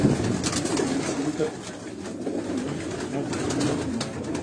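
Racing pigeons coo inside a loft, a steady close murmur of low, throaty calls that keeps going for the whole stretch, with a voice talking faintly underneath.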